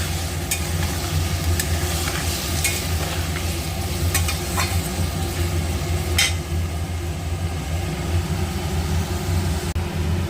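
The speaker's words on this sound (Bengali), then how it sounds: "দেখো বন্ধুরা আমি যে পেঁয়াজটা তেলে ভেজে নিচ্ছি" Thinly sliced onions fry in hot oil for a mutton curry, giving a loud, continuous close-up sizzle with a low hum beneath and occasional sharp clicks of a stirring utensil.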